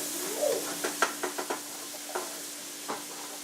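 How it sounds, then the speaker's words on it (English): Sizzling peppers and onions get stirred in a pan, several quick scrapes and taps over a low frying hiss and a steady hum, close by with no speech. "Come back to stir your peppers and onions."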